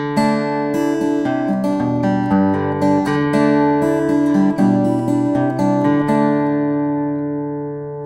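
An Andrew White Freja 1022 acoustic guitar strums chords with a full, warm body through an amplified sound with a microphone blended in, notes ringing out and fading at the end.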